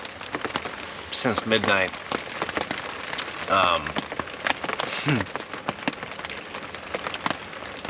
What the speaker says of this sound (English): And it's literally rained like this